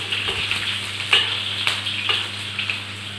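Onions frying in a pan for chicken curry give a close, steady sizzle with a few brief stirring scrapes and crackles, and no voices.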